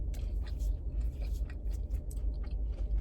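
Crunchy Raising Cane's fried food is chewed close to the mic, giving a run of soft, moist crunching bites over a low background rumble, with no talk.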